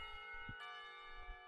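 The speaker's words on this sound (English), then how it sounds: "bells ring, signaling the end of the period." Clock tower bells ring in the Katawa Shoujo video game, a quiet sustained tolling with one bright strike about midway, heard alone without any voices.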